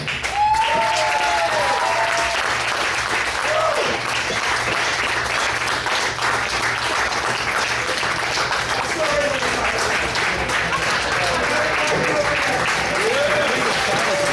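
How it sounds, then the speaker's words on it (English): Audience applause and cheering for professional wrestlers Silas Young and Vic Capri at a live wrestling event, a dense, sustained roar of clapping with scattered whistles and shouts filling the whole stretch. "a round of applause for Silas Young and Vic Capri"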